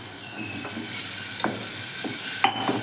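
Ginger paste stirred into sambar in a pan, with a steady sizzle and several soft scraping strokes of a spoon, close and clear.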